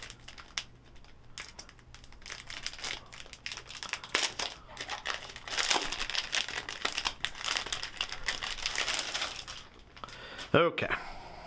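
Plastic Ziploc bags of game tokens crinkle and rustle continuously while a board game is unboxed, close and busy, with brief soft clicks and a voice talking faintly now and then.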